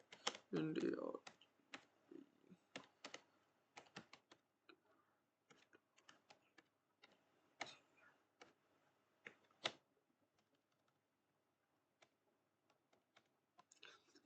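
Code is typed on a computer keyboard with fast irregular clicking keystrokes, close and quiet, with brief pauses and a louder burst at the start.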